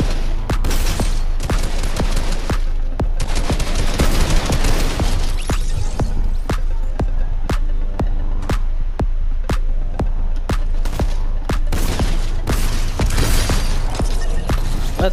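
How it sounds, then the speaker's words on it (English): Rapid gunfire from a shooter video game fills the whole stretch: dense bursts and sharp single shots crack repeatedly and loudly, with brief lulls between volleys. "Oh, they're shooting."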